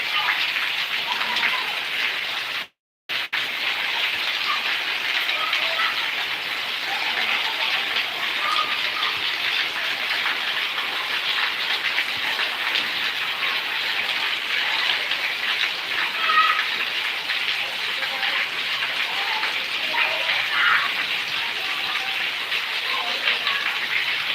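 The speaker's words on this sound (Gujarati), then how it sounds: "આ તો પાટણનો વરસાદ ખૂબ વરસાદ પડ્યો" Heavy rain falls in Patan as a steady, dense hiss of downpour, loud and unbroken throughout, with one brief dropout.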